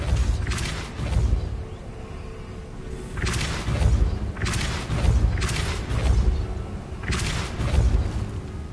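Repeated Depulso spell blasts in the wizarding game Hogwarts Legacy, about four deep whooshing booms at regular intervals over a low rumbling background.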